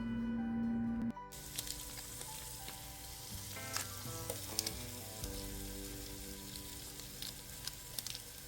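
Green chilies and Maggi stock cubes sauté in a pan with a steady, close sizzle, while a few stirring scrapes and clinks mark the spatula moving through them.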